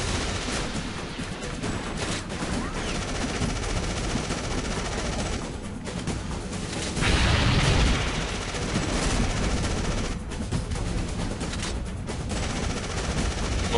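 Gunfire in the survival horror video game AfterFall Insanity, shots the player aims and controls, rapid and dense throughout with a steady loud rattle and a heavier burst near the middle.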